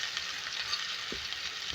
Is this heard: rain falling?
no